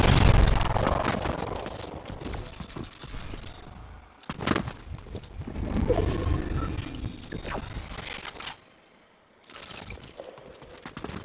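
A steel turret opens fire in Fortnite during a TMNT Cowabunga Clash quest, rapid fusillade bursts in several loud stretches broken by short gaps, with a brief quiet lull near the end.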